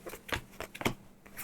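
A quick flurry of crisp papery riffles and flicks, like a deck of cards being shuffled up close, with no talking.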